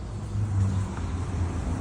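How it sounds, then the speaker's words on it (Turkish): A Peugeot Boxer van approaches outdoors, its engine a steady broadband rumble and whir that swells slightly midway, heard alone without any talking. "Peugeot Boxer ile geldi"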